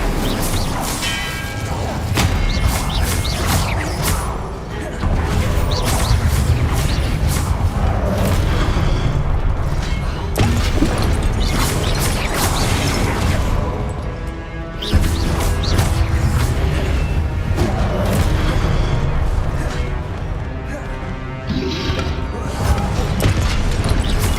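Spells such as Confringo, Expelliarmus and Incendio cast in Hogwarts Legacy burst out as loud booms, crashes and whooshes, repeating in a dense, continuous barrage of impacts for the whole stretch.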